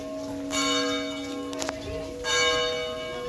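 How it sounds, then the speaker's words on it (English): A church bell rings in a town on Santorini, two clear resonant strikes a couple of seconds apart, each with a long humming decay, over faint street ambience. "A bell somewhere."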